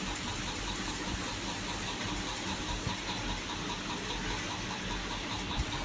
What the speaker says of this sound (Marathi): बॉल असे बाजूला टाकायचे आणि शेल असे गोल्डन होईपर्यंत तळायचे